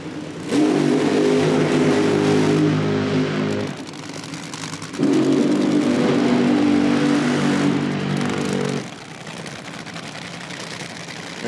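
A nitro Funny Car at a drag racing event in Hebron revs hard in two long, loud roaring bursts, each trailing off into a lower rumble before the next.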